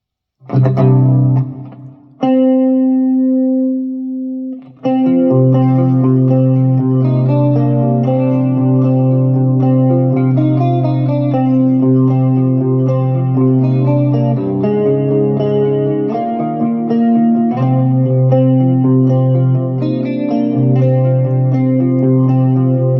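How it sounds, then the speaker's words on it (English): Clean electric guitar through a Blackstar Silverline amp with KT88 response, shimmering chorus and reverb tail, chords and single notes ringing out continuously, warm and dark in tone, no voices. "I've got some chorus and reverb."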